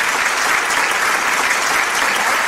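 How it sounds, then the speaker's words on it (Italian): A television studio audience gives loud, dense, sustained applause that stays steady and close throughout, with no talk over it. "Facciamo un forte applauso!"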